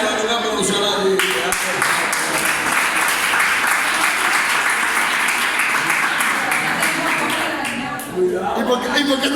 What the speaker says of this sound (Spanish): Dale un aplauso a la Biblia, dale un aplauso a la Biblia.